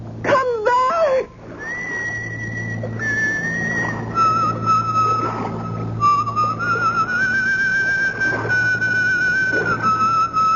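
A person whistles a wavering, sliding melody, loud and close, after a brief burst of high yelps at the start.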